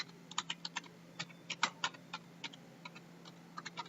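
Soft clicks of typing on a computer keyboard, irregular bursts of keystrokes with short pauses, quiet and close in a still room.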